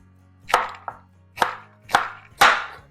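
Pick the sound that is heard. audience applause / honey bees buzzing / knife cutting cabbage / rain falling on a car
knife cutting cabbage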